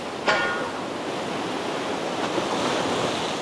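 Ocean waves surge and wash onto the shore at Jumunjin during rockfish lure fishing, a loud continuous roar with gusts of wind buffeting the microphone.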